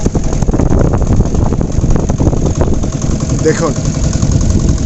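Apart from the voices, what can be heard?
boat engine running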